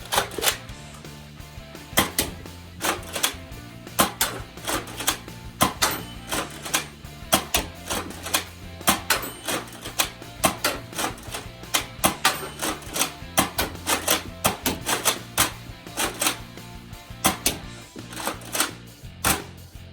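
A Nerf Mega Thunderhawk blaster loaded with AccuStrike Mega darts makes a steady run of sharp mechanical clicks and clacks, close and fairly quiet, repeated in quick succession throughout.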